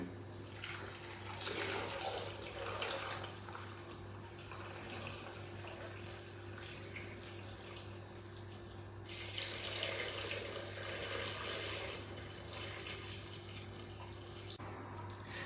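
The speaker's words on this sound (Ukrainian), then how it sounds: "заливаємо нашим таким розчином сольоним наші огірочки" Salt brine is poured over cucumbers in a jar: a soft, continuous watery trickle that swells in two gentle surges over a faint background hum.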